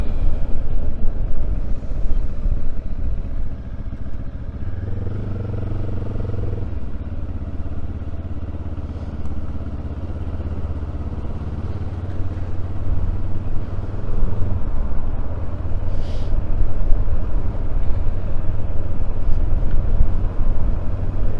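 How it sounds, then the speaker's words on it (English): Benelli TRK 702 motorcycle engine with a steady, throbbing exhaust note while riding, continuous and fairly loud, with a deeper pulsing stretch in the middle and wind rush throughout. "I don't know if you can hear the exhaust notes, like a do-do-do-do-do."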